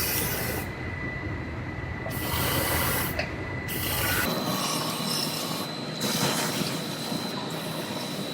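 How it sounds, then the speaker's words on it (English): A 360-degree spray wand hisses as it coats the inside of a cut Ford F-150 truck frame in a body shop, with bursts of steady spray broken by short pauses. "this sprays in a 360-degree pattern. So it coats everything"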